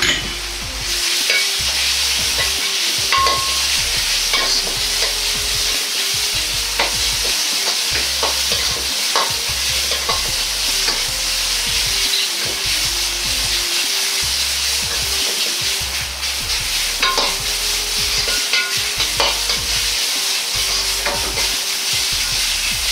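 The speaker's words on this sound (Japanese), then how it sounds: "豚肉も入れて炒めていきます。" Pork sizzles steadily in a hot pan while a utensil scrapes and stirs in repeated strokes, with no talking.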